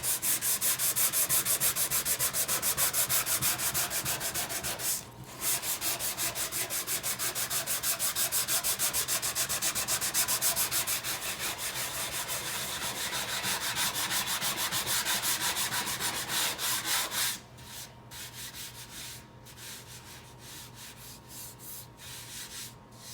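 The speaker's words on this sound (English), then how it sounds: "Okay, we're done sanding." A speaker enclosure is sanded by hand with 80 grit sandpaper, continuous rough scratchy rubbing strokes up close, briefly pausing once and turning lighter and more broken near the end.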